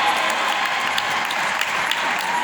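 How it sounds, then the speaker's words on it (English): Steady school audience applause from parents and students, many hands clapping densely and continuously at a loud, even level with no voices rising above it. "A round of applause, my friend. A round of applause."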